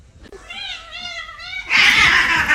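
A cat lets out a long, wavering, whiny meow lasting about a second, followed by a burst of harsher hissing-like noise up close.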